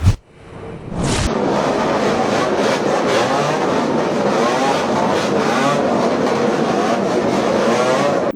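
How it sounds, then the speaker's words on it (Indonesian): A convoy of motorcycle riders carrying political party flags revs their engines in front of a military base, producing a loud, sustained, overlapping engine roar that starts abruptly after a brief thump and holds for several seconds. "tampak rombongan pengendara motor membawa bendera partai politik menggeber motor di hadapan anggota TNI"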